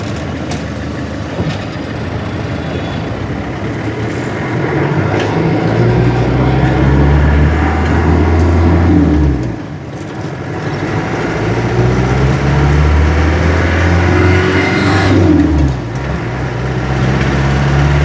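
A 1993 Land Rover Defender 90 engine drones while driving, steady and close, rising and falling with throttle and gear shifts, with two brief dips in power where the note settles before pulling again.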